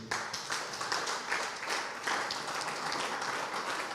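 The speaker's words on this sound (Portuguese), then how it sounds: "Fique de pé, aplauda o Senhor" A church congregation rises and applauds during a sermon, a steady, fairly distant patter of many hands clapping that holds evenly throughout.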